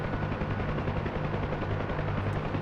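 Helicopter rotor from DCS World as the aircraft picks up into a hover, a steady rhythmic low thumping beat with dense broadband engine and rotor wash, continuous and fairly loud with no talk.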